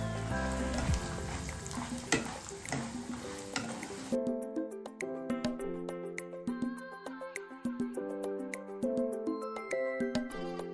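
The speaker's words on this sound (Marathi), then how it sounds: "आता तुपामध्ये भिलाव्याची गोडंबी टाकतोय, यांना पण फ्राय करून घ्यायचं" Cashew-like bhilawa nuts sizzle in hot ghee with a steady crackling hiss, while music with clear tones and beats plays throughout.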